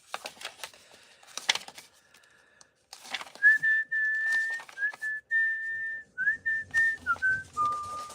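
A person whistles a clear melody of sustained and sliding notes to call a herd, after a stretch of scattered clicks and rustling.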